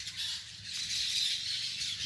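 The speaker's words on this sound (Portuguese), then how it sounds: "Olha o barulho dos pássaros" A flock of birds in a tree in a big-city centre in Rio de Janeiro squawks and chatters constantly, a dense, shrill wash of calls with no voices heard.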